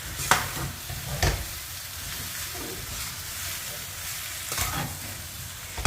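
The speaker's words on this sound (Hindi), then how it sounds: "तो अब देखिए इसको अच्छे से मिक्स करना ताकि सारा मसाला इस पर कोट हो जाए।" Capsicum tossed with spices in a hot pan, a soft continuous sizzle broken by a few sharp spatula scrapes and knocks against the pan, close and moderately quiet.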